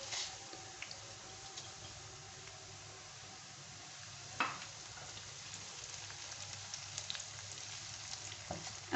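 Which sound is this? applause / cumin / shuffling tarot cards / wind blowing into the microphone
cumin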